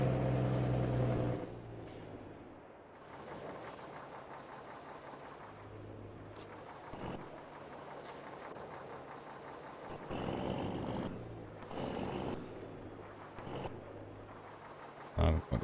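Truck air brakes in Farming Simulator 22 release with a sharp hiss at the start and again near the end, over steady in-game engine noise, with a person talking throughout.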